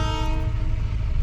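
A railway locomotive engine draws near, a sustained loud rumble with a steady horn-like tone in front, continuous and close throughout the short stretch.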